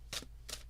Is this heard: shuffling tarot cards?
yes